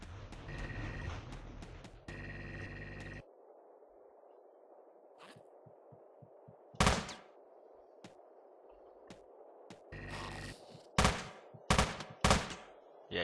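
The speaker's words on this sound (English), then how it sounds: "every gun really does feel good when you're shooting it" Gunfire in the pixelated sci-fi shooter Teleglitch: bursts of rapid automatic fire, then quieter stretches and several loud single shots, over a low electronic drone.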